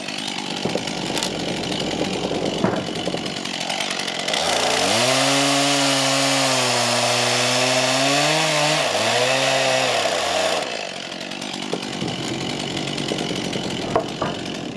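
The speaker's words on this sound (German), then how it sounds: "Und das passiert wieder auf die rustikale Art, mit der Kettensäge." A chainsaw cuts through wooden roof rafters while a timber roof frame is being built. The engine revs loudly and steadily for about six seconds, with quieter idling and workshop noise before and after.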